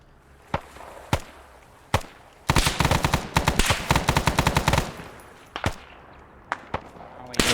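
Gunfire erupts in a video game ambush: a few isolated sharp shots, then a dense burst of rapid automatic fire for about two seconds, followed by more scattered single cracks, some sounding distant.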